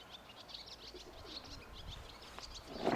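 Soft coos and faint chirps of pigeons and young pigeons sound quietly in the background, with a brief rustle near the end.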